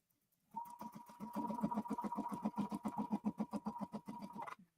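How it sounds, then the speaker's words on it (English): A sewing machine runs for about four seconds, stitching in a fast, even mechanical chatter over a steady motor whine, faint and close, starting and stopping cleanly with no talking. "I'm going to sew these."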